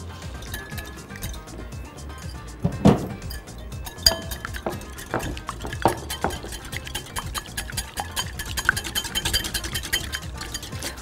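Two ingredients being whisked together in a bowl for crispy potatoes: a close run of light clinks and taps of a whisk against the bowl, uneven in rhythm with a few sharper knocks, no talking.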